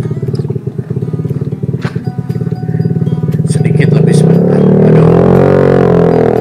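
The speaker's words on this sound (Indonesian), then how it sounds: "berisik ini suara motor." A nearby motorcycle engine chugs with a rough, pulsing idle that swells into a louder, sustained roar as it revs, while a person talks over it.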